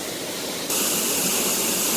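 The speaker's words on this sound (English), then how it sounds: "Yeah, we found a waterfall." A waterfall near Rotorua, New Zealand, heard as a steady broadband rush of falling water that grows louder partway through and continues unbroken, with no voices.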